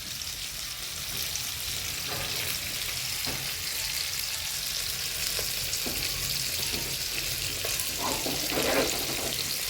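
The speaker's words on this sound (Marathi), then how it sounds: "मध्ये मध्ये असं तेल टाकत राहावं लागतं नाहीतर ते खाली एकदम शेपकतात" Bombil (Bombay duck) fish frying in oil in a home kitchen pan, a steady close sizzle and crackle with occasional scraping and stirring clicks, no voices.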